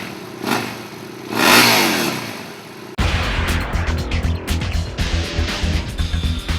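A 2012 Husqvarna Nuda 900R's exposed 900cc engine revs twice, rising and falling, then settles into a loud, rough, throbbing idle with rattling mechanical clatter up close.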